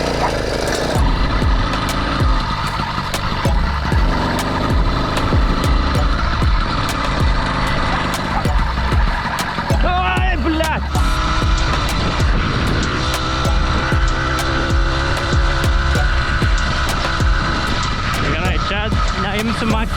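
A farm vehicle engine drones loudly and steadily while driving along a gravel road, with rumbling and rattling throughout and a few sharper knocks and clatters, heard close up.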